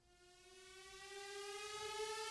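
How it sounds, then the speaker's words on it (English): A tuned synth riser sweeps steadily upward in pitch to end on an F, a bright harmonic tone climbing and swelling slightly louder over a couple of seconds. "I added a Somatics riser"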